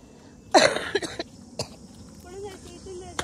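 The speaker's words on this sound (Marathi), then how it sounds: "जाम खोकला झालाय." A sharp, harsh cough bursts out close by from a person with a persistent cough, followed by a few smaller coughs and throat noises, with faint background sounds in between.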